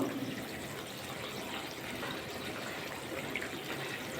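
Eggplant pieces stirred gently in boiling water, giving a continuous close churning, bubbling wash of liquid at low volume with no talking.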